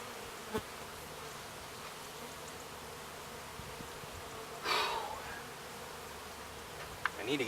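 Honeybees buzz steadily throughout as they are moved into a top bar hive, a dense close insect drone with a brief louder swell midway and a few sharp knocks.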